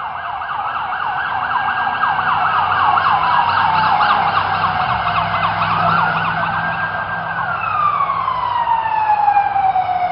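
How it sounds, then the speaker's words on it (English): A police car siren wails steadily and loudly, its sweeping electronic tone rising and falling through the whole stretch alongside a low hum of road traffic. "Police car."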